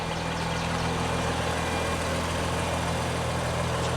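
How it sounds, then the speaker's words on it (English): A 2023 Nissan Z's twin-turbo 3-liter V6 idling, a steady, even low hum with no revs, heard alone without talk. "that bulge is covering our twin turbo 3-liter"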